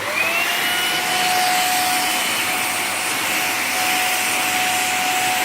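A vacuum cleaner runs steadily while a cat is hoovered, giving a constant loud whooshing roar with a high motor whine that holds for the whole stretch without pause.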